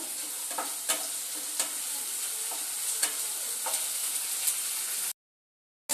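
A spice masala fries and sizzles steadily in hot oil on a gas stove for chicken khichdi. The hiss is continuous, with occasional stirring clinks, and it cuts off abruptly near the end.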